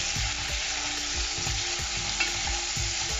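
Tomatoes being stirred into cooking mutete, dried roselle leaves, in a pot: a dense steady sizzle with regular low thumping strokes of the spoon repeating about every half second, close and free of speech.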